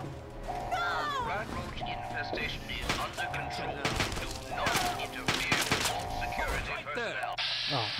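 Gunfire in the video game Fallout 3 on Xbox Series S, repeated bursts of shots and thuds amid game sound effects, with someone talking over the action.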